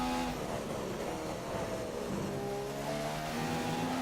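A Formula One race car engine in the racing game F1 2015, at the Australian circuit, whines at high revs and shifts pitch through gear changes, droning steadily with no voices.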